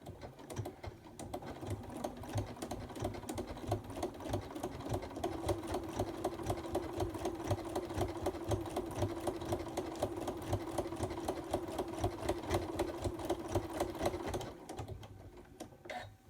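Close up, a sewing machine stitches in the ditch through a quilted pot holder, giving a long run of rapid, even needle clatter that starts and stops cleanly, with no talking over it.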